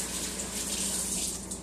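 Tap water runs steadily from a faucet as hands are washed in a lab setting, a continuous close hiss and splash with no talking over it.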